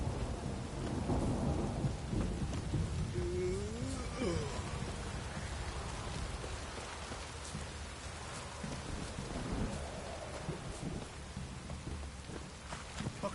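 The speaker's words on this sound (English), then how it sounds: "A storm, damn it." In The Witcher 3, a thunderstorm sets in with steady heavy rain hissing throughout and thunder rumbling low, while a voice briefly calls out near the start.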